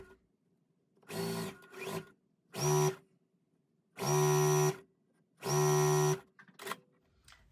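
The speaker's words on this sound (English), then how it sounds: "I'm going to go ahead and sew the K and C strips together." A sewing machine stitches quilt strips together in several separate runs of steady motor whirring, some short and some longer bursts, with quiet pauses between, close and loud with no talking.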